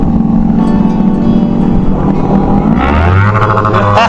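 Motorcycles at a Sunday group ride in Senayan, including Kawasaki Ninja ZX25R and 250 FI sport bikes, drone and rev loudly nearby, with one rev rising sharply near the end.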